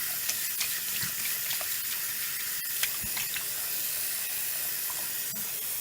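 Warm tap water runs steadily into a sink for washing synthetic wigs, a constant close hiss with a few faint clinks and knocks and no talking.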